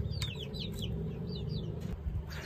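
Hens just let out near a rooster give a series of soft, rising clucks and chirps, close by over a steady low background hum.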